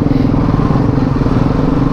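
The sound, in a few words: motorcycle riding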